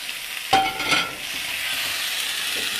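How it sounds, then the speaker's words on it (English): Coconut curry sauce in a pan turned down to a very low simmer, a soft steady bubbling sizzle with a brief scrape of stirring near the start, close and quiet with no talking. "That pan's turned way down now to a very low simmer"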